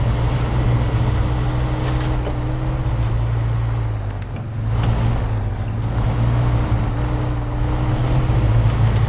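The SnowRunner truck engine labours in low gear with a steady, loud, droning hum. It holds at an even pitch throughout and dips only briefly midway.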